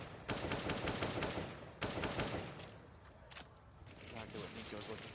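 Rapid automatic gunfire sprayed at a close wooden wall in a CS:GO pro match between SK and FaZe at IEM Sydney 2017, two dense bursts followed by scattered shots, with a commentator talking over it.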